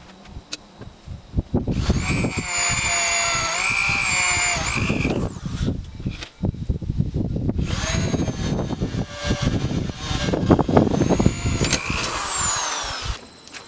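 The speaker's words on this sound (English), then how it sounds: "Now I know exactly where to put the pilot drill." A drill bores pilot holes into a metal tractor seat bracket in two long bursts, its pitch rising and wavering under load, with clattering and handling noise around it.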